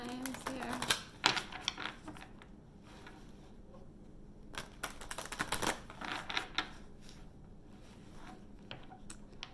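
An Ascended Masters oracle card deck is shuffled in repeated bursts of quick papery riffles and taps, close and fairly soft, with quiet gaps between the bursts.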